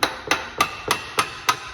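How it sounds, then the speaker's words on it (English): A hammer gives six sharp, evenly spaced taps to a Renault Clio 1.2 water pump to free it from the engine block. The taps are close and loud, and no one speaks. "give it a little tap with the hammer just to break the seal"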